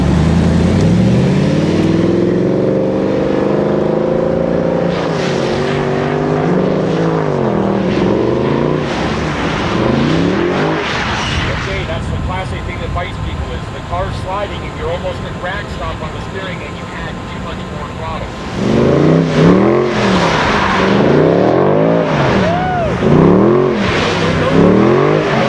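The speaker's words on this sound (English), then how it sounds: "let that right foot make the car slide and try and stick with it. Keep the car sliding." A Mercedes-AMG car roars and revs hard as it slides around the Laguna Seca track, its engine pitch rising and falling in loud, continuous sweeps close by.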